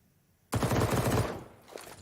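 A short, loud burst of submachine-gun fire from a Counter-Strike match on the Ancient map at a professional Major tournament. The rapid shots run for under a second and then fade into quieter in-game noise.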